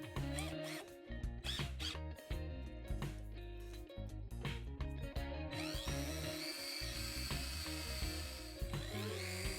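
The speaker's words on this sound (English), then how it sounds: "I sand the axles with my hand drill and some emery paper." A small hand drill whirs steadily with scratchy, abrasive rubbing and intermittent clicks as emery paper sands the axles of a die-cast toy car, close up and without voices.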